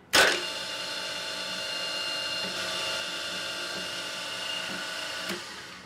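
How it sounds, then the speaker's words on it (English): A drill whines steadily at high pitch after a sharp start, boring continuously through a metal plate before stopping abruptly near the end. "it's easy to drill here"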